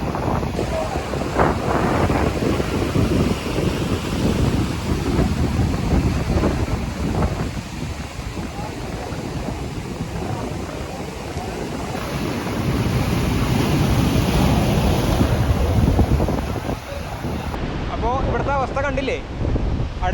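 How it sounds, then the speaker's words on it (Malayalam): Strong sea waves crash and surge against a rocky shore in a steady roar, with heavy wind buffeting the microphone and a voice talking faintly beneath. "ഇങ്ങനെ കുഴിച്ചു കൊണ്ടുപോകുന്ന കടൽ കുഴിപ്പൻ തിരമാലകളാണ്"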